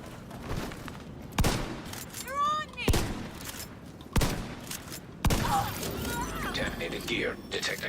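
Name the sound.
gunfire in The Division 2 video game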